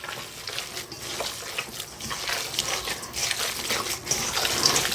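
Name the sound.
mixing seasoning into ground meat for summer sausage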